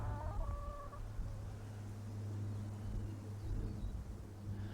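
Chickens cluck near a chicken coop by a shed, with a short, close burst of clucking at the start followed by softer intermittent fowl sounds over a steady low outdoor hum.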